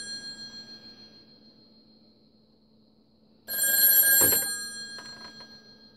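A red rotary telephone gives one burst of loud, close bell ringing after a quiet stretch of faint hum, then the ring stops and fades.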